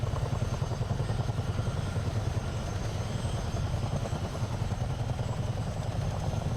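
A CH-47 Chinook tandem-rotor helicopter in Microsoft Flight Simulator gives a steady, continuous rotor thrum and engine drone, moderately loud and unbroken, with no talking.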